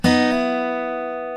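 An acoustic guitar strikes a single bright note with a sharp attack, then lets it ring and slowly fade, with no clear second pluck or hammer-on standing out in the decay.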